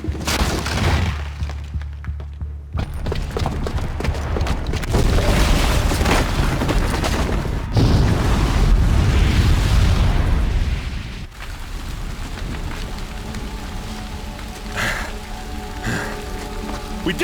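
A booby-trapped bomb detonates in Horizon Zero Dawn, producing loud rumbling blasts and crackling debris that swell in the middle and settle into a lower, sustained rumble.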